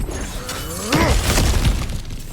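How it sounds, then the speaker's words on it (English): Objects shattering and breaking apart in God of War Ragnarök, with a sharp smash near the one-second mark and crunching debris following, loud against a steady game ambience. "back to smashing through things for fun and profit"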